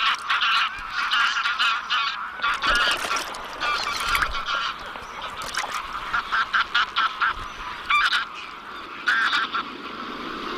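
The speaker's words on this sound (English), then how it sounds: "The senior ganders come to blows, egged on by their respective supporters." Rival family groups of wintering geese squabble while ganders fight, and loud overlapping honks and cackles come in rapid bursts from a close, crowded flock. The calling continues throughout with short gaps and no talk.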